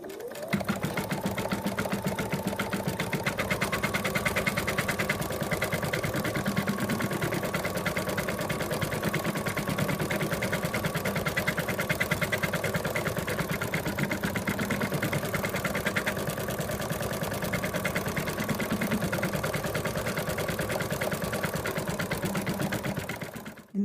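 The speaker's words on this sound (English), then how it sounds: "The machine's finished stitching the outline" An embroidery machine steadily stitches the antler and tail outline of an in-the-hoop moose design, a loud continuous rapid mechanical whir with a constant rhythm throughout.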